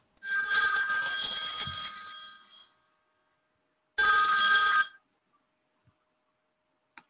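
A phone rings in two bursts, the first ring about two seconds long, then a pause and a shorter second ring, clear and close with no talking.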